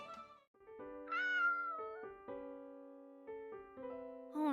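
A cat meows several times in a series of clear, drawn-out, tonal cries. The calls rise and fall, are close and fairly soft, and come alone over a quiet background.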